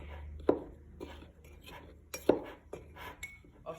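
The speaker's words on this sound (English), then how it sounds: "We need to mix very well." Cake batter mixed by hand in a bowl for a microwave cake, quiet scraping and a couple of sharp clinks of utensil against the bowl in an irregular rhythm, no talking.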